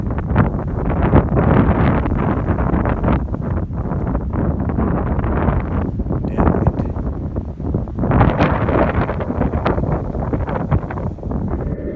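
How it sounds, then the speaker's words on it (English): Strong wind buffets the microphone in loud, continuous gusts, roaring and rumbling with brief dips and surges, no voices present. "This cold, windy weather is extremely frustrating."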